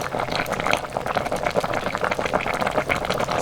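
A cutlassfish braise with green onion and chili peppers boils hard over high heat, a steady close bubbling and sizzling that runs on without talk.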